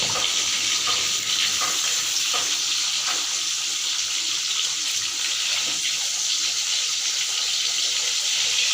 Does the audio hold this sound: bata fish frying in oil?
yes